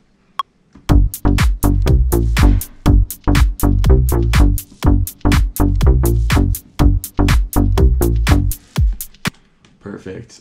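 Electronic bass synth for a house track plays a bouncy melody of short repeated plucked notes in a steady groove, loud and close with no talking.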